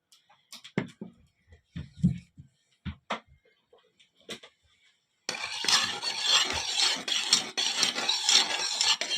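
A spoon stirs a dough mixture of milk and oil in a bowl: a few scattered taps and clinks come first, then a steady, close scraping swirl that goes on without pause.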